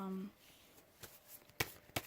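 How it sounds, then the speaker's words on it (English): Tarot cards being shuffled give a few soft, sparse riffling bursts and taps, close by in a quiet room after a brief tone fades. "I shuffle off camera."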